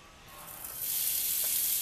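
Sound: pancetta sizzling as it browns in a hot pot

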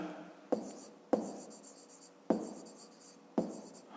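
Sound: writing numbers by hand

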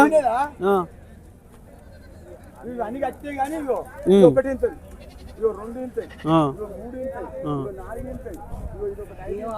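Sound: goats bleating at a livestock market

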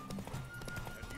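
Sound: horse galloping in a race in the video game Witcher 3

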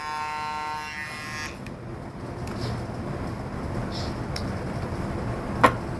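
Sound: Kemei KM-1015 electric trimmer running

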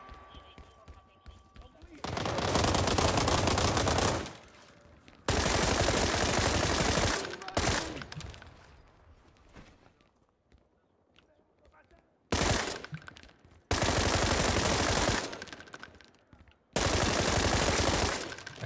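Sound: gunfire from a video game (World War 3)

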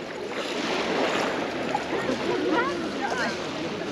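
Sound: small sea waves stirred up by wading in water

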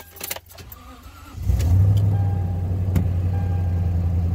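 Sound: 2007 Toyota Tundra pickup truck key turned, engine running

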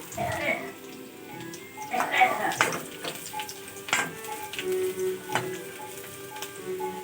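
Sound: chopped garlic frying in a pan

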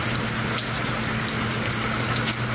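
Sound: heavy rain falling

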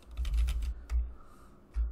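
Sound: typing on a computer keyboard

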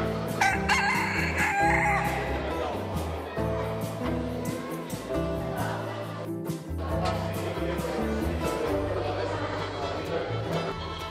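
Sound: rooster crowing at a poultry show

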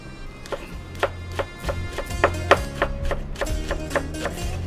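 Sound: knife chopping spring onions

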